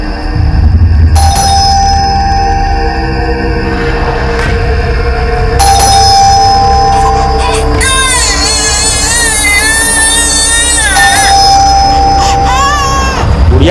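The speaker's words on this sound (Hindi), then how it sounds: "कब से घंटी बज रहा है, सुनाई नहीं दे रहा है क्या?" A doorbell rings repeatedly and loudly in a home, its bright tonal chime sounding over background music and ambient noise.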